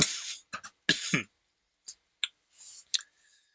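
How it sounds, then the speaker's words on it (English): Several short, sharp coughs in separate bursts, close and fairly loud, with quiet pauses between them during a Final Fantasy V play session. "Curse this cough."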